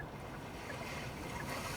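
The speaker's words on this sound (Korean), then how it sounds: "을왕리 바다의 그 잔잔한 파도 소리를 듣고 싶다" Calm sea waves recorded at Eurwangni beach, played as a nature sound through a Kia K7 facelift's audio system: a steady, soft wash of surf with a continuous, even level and no distinct breaks.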